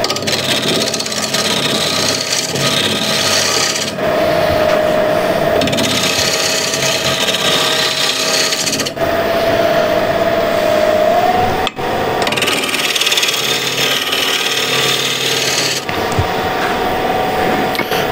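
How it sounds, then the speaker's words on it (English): Beech spindle being trued up on a wood lathe with a spindle gouge, giving a loud, continuous rough scraping and ripping of the cut, broken by brief pauses between passes. "So this is spindle gouge,"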